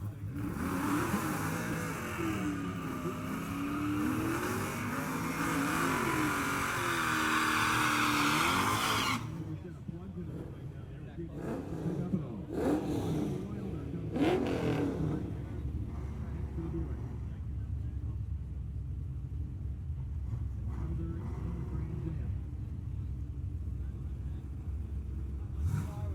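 Chevy-powered drag race car with a 4-speed at a drag racing event, its engine revving loudly and continuously with rising and falling pitch for several seconds, then dropping to a lower rumble with crowd and announcer talk in the background.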